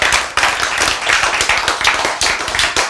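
An audience in a church or lecture hall claps in a fast, steady rhythm, loud and close, with sharp repeated hand slaps and no speech.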